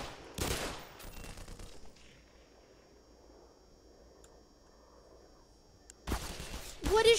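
Automated turrets in the Black Mesa video game fire on the player in loud rapid bursts, one near the start and another toward the end, with a quieter stretch of low rumble in between.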